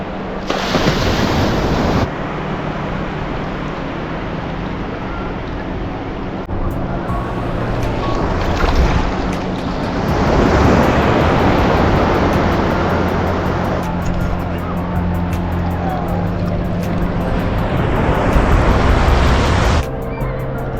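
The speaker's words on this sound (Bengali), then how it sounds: "একটা বড় ঢেউ আসছে, একটা বিরাট ঢেউ আসছে।" Surf roars continuously at a beach at Digha, with waves breaking and washing in close to the microphone, wind buffeting throughout, and a swell of louder rushing water midway.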